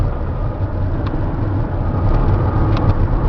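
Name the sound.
2008 Sprinter 3500 diesel cab chassis driving at 60 mph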